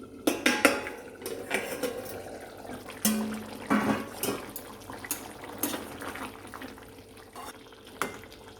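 A pot of potato and pea curry gives off a run of close metallic clanks and knocks as its lid goes on and comes off, with utensil taps and a faint simmering bubble in between.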